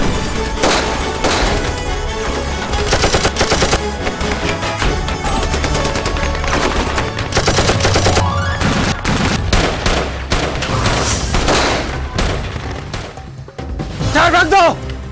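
Rapid gunfire bursts and crashes fill a loud battle scene. Dense volleys of shots and impacts run almost continuously, with shouted voices mixed in.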